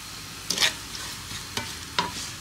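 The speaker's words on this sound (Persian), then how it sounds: "حدود 3 دقیقه که این خلال پوست پرتقالمون تفت خورد، ما یه قاشق شکرم بهش اضافه می‌کنیم." Slivered orange peel is stirred and sautéed in a pan, giving a soft steady sizzle broken by several quick scraping strokes of the utensil, close by with no talking.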